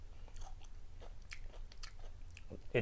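Quiet, close-up crunching as thin chips are bitten and chewed, a series of short crisp cracks spread over a few seconds.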